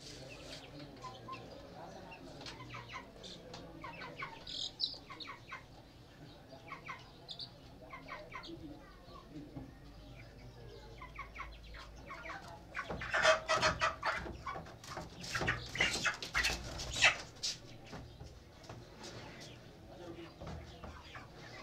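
Chickens cluck intermittently in the background while people talk, with a louder burst of clucking and flapping toward the end.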